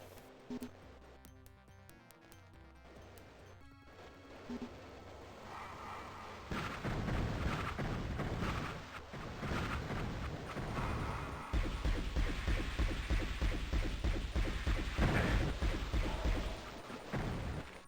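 Combat from the game Heretic plays loudly and steadily: the wand fires again and again amid a dense wash of game effects that thickens partway through. No one speaks.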